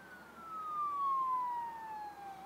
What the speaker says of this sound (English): got some dag blasted siren in the background making racket during your video